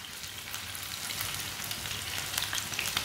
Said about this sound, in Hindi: ये बहुत ही आसान तरीका है मिर्च फ्राई करने का।